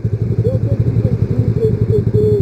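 A Honda Factor 150 or Fan 160 motorcycle fitted with a sport exhaust idles and revs in a low, pulsing rumble with slight rises in pitch, close by and loud, with people talking over it.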